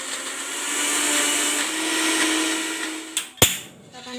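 Blender running steadily as it purees garlic and ginger with cooking oil for an East Javanese black squid dish, a sustained whirring drone that stops with a couple of clunks near the end.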